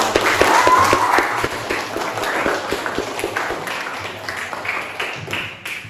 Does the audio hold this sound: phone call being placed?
no